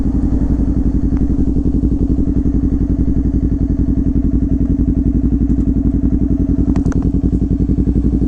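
A motorcycle runs at steady speed on a road ride. Its engine firing is close and loud, a rapid even throb with a little clatter, and no one speaks over it.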